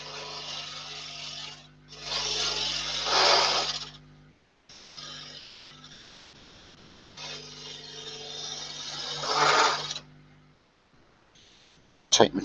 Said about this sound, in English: So let's do a bit of hollowing out.